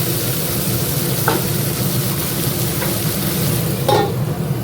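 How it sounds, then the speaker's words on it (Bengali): Onion, garlic, ground spices and chicken frying in a pan for a red chicken curry, a loud continuous sizzle with a few sharp scrapes of a spoon stirring. "লাল করে পেঁয়াজটা ভেজে নেব রসুনটা জাস্ট দিয়েই মশলা মাংসটা ঢেলে দেবো"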